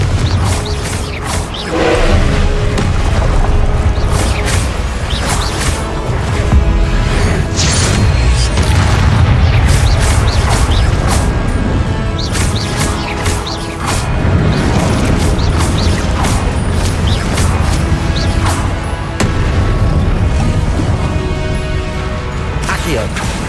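Repeated Confringo blasting-spell explosions in Hogwarts Legacy combat make loud, continuous rumbling booms and crashes with creaking, roaring game effects. Voices can be heard in the mix throughout.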